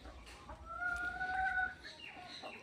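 Backyard chickens cluck softly while being fed rice alongside ducks and pigeons, a faint, close murmur of clucks over low ambient noise.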